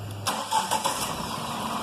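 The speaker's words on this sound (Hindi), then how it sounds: "अब हम व्हीकल का इंजन स्टार्ट करेंगे और इसका स्टार्टर टेस्ट लेंगे" A car engine cranks and catches during a Bosch BAT 131 battery tester cranking test, a sharp start followed by a few uneven revs settling into a steady idle, close and clear.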